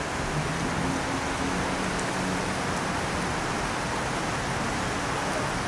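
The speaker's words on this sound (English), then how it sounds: "Look how gorgeous the rain is falling down here on the Chicago elevated." Steady rain falling beside the Chicago elevated train, a dense, even hiss of drops throughout with no breaks and no voices.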